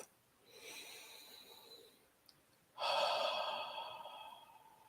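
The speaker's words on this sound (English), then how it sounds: "let's start to take a deep breath." Slow deep breaths during a guided relaxation practice: a soft, long inhale, a pause, then a louder, airy exhale, close and intimate with no talking.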